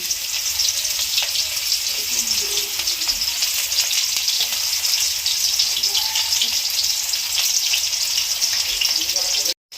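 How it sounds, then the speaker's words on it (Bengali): Chopped onion fries in oil in a wok with a loud, dense, crackling sizzle that runs steadily and close for the whole stretch, stopping abruptly at the end. "তেল দিচ্ছি কড়াইতে, আর একটু হয়ে গেছে। পেঁয়াজ দিচ্ছি কুচি"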